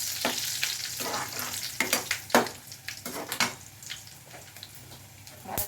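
Hot oil tempering for kadhi sizzles and crackles in a pan as a spoon stirs and scrapes it, with uneven bursts of spitting and metal clinks up close, no talk.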